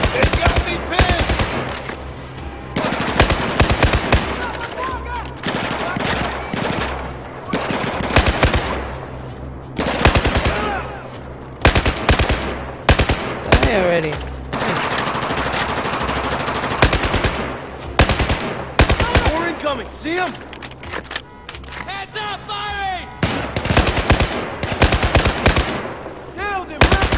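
Enemy gunfire in Battlefield 4 on Xbox One: sustained bursts of automatic rifle fire and single shots crack loudly and almost continuously, some near, some farther off, with a voice briefly heard amid the battle.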